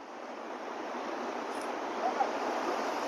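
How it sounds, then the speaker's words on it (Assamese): Strong wind buffets the microphone in a steady broadband roar, outdoors near the Kargil War Memorial in Ladakh, with no other sounds breaking through. "বতাহটো কিন্তু বহুত বেছি দি আছে মাইকত কি সাউন্ড আহিছে মই গম নাপাওঁ"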